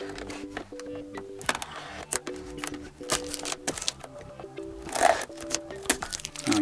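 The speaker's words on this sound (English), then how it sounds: "So let's pop it open." Fake Apple AirPods Pro packaging is opened with close, irregular cardboard and plastic rustles, clicks and scrapes in short bursts, ending in a louder crinkle of wrapping.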